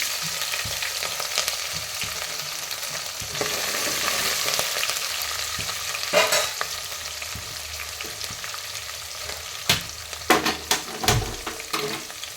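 Curry leaves and green chillies sizzle and crackle in hot oil for a North Karnataka rice upma, a steady close frying hiss with sharper pops and a few stirring clinks toward the end, no voices.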